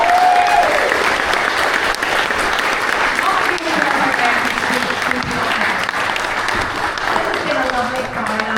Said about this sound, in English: let's have a cheer for all the women who have done so well tonight